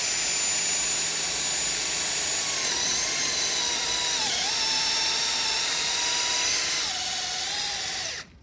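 A FAMAG wood drill bit from Germany bores into wood with a loud, steady high-pitched whine that dips briefly in pitch under load, then cuts off at the end.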